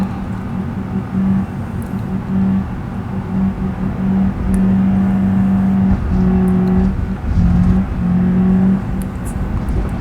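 A car engine revs hard in sustained, loud bursts with a steady droning tone rising and falling, as though the car is straining to climb a hill, with no talk over it.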